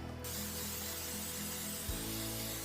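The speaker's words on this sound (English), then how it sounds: "we just have to layer a nice amount of baking spray into any pan." Baking spray hisses from an aerosol can into a pan for gluten-free brownies, a steady, close, continuous spray lasting a few seconds with no talking.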